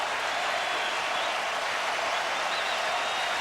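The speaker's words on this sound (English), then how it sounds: "Cleveland crowd having a whole lot of fun right now." Cleveland baseball fans roar at a 2007 ALDS playoff game against the Yankees, a sustained wash of cheering and clapping that fills the stadium without a break.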